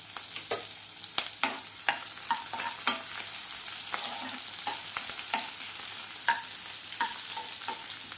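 Green chillies and small onions frying in hot tempering oil, a close continuous sizzle broken by repeated sharp spatula scrapes and clicks at an uneven pace.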